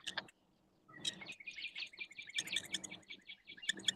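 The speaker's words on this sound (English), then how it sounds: "I love the sound of those birds." Birds calling outdoors, a busy cluster of bright high chirps and tweets repeating in quick bursts, fairly faint and without any talk.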